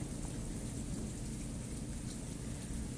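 Steady rain falling on a rainy day, a dense, even hiss of drops with a low rumbling undertone suggesting distant thunder, continuous and moderately faint with no voices.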